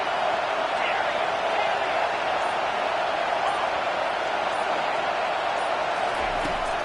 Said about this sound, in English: And the crowd really making some noise now, trying to help out this defense to get this stop near the goal line.